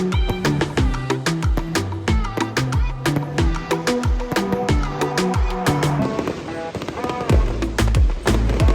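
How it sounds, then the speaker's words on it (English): Fireworks at Busch Gardens Tampa during a thunderstorm: a dense, continuous barrage of loud booms and crackling bursts, many rapid overlapping explosions with sharp cracks and deep thuds, close and sustained throughout. "Yep, there's all the fireworks."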